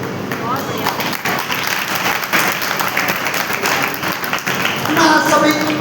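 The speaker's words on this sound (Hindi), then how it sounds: "सभी अपना हाथ ऊपर करके ताली बजाएंगे" An audience at a devotional gathering claps steadily and fairly loudly for several seconds, with a voice speaking over the applause.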